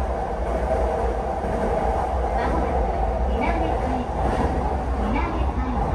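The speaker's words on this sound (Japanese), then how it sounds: "なんか独特な走行音ですよね。" A Keiyo Line train rolls along steadily on ballastless concrete-slab track with a loud continuous rumble and faint rhythmic clatter, close and unbroken throughout.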